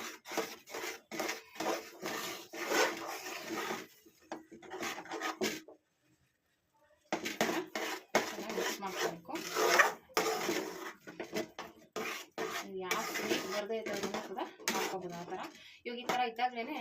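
Carrot and beetroot halva mixed with ghee in a pan, a close, repeated scraping and rubbing of a spoon through the thick mixture in quick strokes, pausing briefly midway before resuming.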